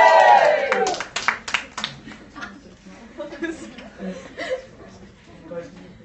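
A small press-conference crowd gives a brief cheer and scattered claps that quickly die away into chuckles and chatter.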